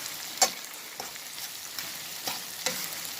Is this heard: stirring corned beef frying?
yes